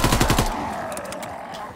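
Rapid automatic fire from a GDB 79 AR rifle in a WWII video game, a fast loud rattle of shots for about half a second that then rings off into a fading tail.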